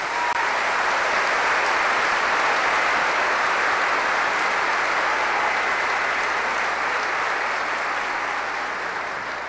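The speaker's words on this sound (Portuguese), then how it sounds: "Uma salva de palmas para o Santo Padre" Sustained, dense applause fills a church hall for the Holy Father at a ceremony welcoming a new auxiliary bishop of Brasília, steady and loud throughout with only a slight fade at the end.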